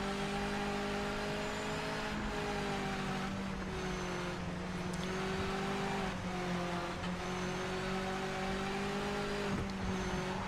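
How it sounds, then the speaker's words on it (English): Racing car engine in Project Motor Racing, sustained and loud with steady harmonic drone, gear shifts and pitch changes throughout, no talk. "This does not sound like an MX-5 Cup car."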